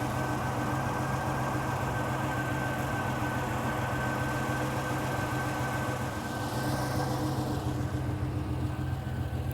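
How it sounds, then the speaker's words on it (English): A Ferrari 330 GTC sits with its hood closed, cooling fans running under a steady whirring hum with a low drone beneath, continuous and even for nearly ten seconds, no voices heard. "You can hear the cooling fans running"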